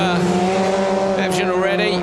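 A rallycross car at the 2019 World Rallycross of France in Bretagne comes around the final corner on its last lap, its engine droning loudly with tyre squeal under commentary.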